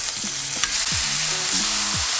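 Burger patties for pizza burgers sizzle in a pan just after being flipped, giving a brief, steady close frying hiss with a few low tonal sounds over it and no speech.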